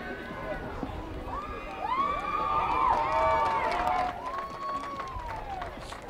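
Crowd noise at a Carthage versus North Central college football game, a steady cheering roar with shouts and claps that swells in the middle and then settles, with voices mixed in.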